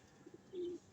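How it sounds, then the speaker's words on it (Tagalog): A homing pigeon gives a short, soft coo outdoors, with a couple of quick low notes and then one sustained tone, quiet and close with no talk. "ang ibon natin na si Masbate. Nahuli ko na"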